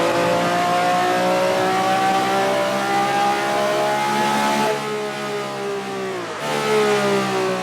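A car engine revs steadily at high pitch while racing in a video game, its tone rising smoothly, dipping with a shift near the end, then climbing again, loud and continuous with no talk.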